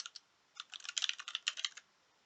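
Code is typed on a computer keyboard in a close, crisp flurry of quick key clicks, a couple of isolated taps first, then a dense burst before stopping.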